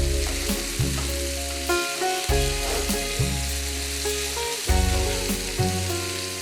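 Tomatoes dropped into a pan of frying onions sizzle loudly and continuously, with rhythmic stirring and scraping knocks every second or so.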